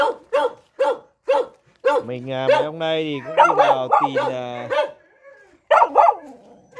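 Hunting dogs kept for chasing wild boar and deer bark loudly and close by, in sharp repeated barks with a drawn-out whine or howl, while someone talks over them.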